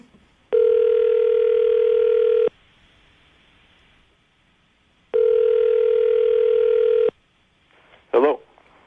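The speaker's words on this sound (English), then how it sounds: "I'm going to dial the phone number right now, see if we can get him on the phone" Two long steady telephone dial tones, each about two seconds, separated by a pause, followed by a brief burst of touch-tone dialing as a phone number is entered for a call.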